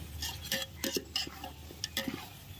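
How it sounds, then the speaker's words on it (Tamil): A metal spoon scrapes and clanks through a pot of beef nalli biryani masala, several irregular stirring strokes close and moderately loud, with a faint sizzle underneath. "சேர்த்துட்டு நல்லா கிளறி விட்டுடலாம்"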